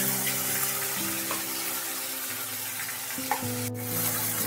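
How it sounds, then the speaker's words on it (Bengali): Ground tomato paste fries in hot oil with nigella seeds, giving a soft, steady sizzle with faint stirring sounds, close and fairly quiet, for a pabda fish poppy-seed dish. "টমেটোটা তেলের সাথে ভালোভাবে একটু কষিয়ে নিতে হবে।"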